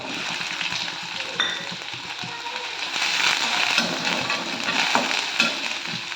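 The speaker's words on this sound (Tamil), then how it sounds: "அடுப்பை சிம்மில் வச்சு லேசாக வதக்கிக்கலாம்" Chopped small onions sizzle and crackle steadily in hot sesame oil over low heat, with occasional stirring scrapes in the pan and no talking.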